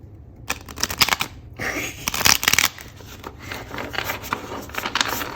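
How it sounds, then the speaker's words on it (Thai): A new deck of paper playing cards is riffled, giving rapid crisp fluttering bursts of card flicks close up, a short pause, then more riffles, with faint room noise between. "เดี๋ยวแค่กรีดไพ่นะคะ"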